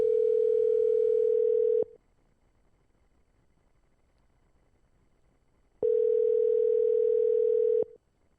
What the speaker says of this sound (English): Ellis, I'm calling you. Pick up.